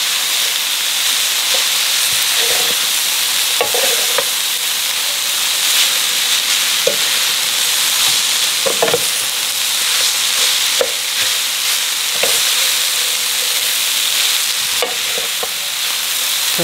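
Rice noodles and green sprouts fry in a Sunbeam Duraceramic frypan, giving a loud, steady sizzle and hiss throughout with a few soft stirring knocks.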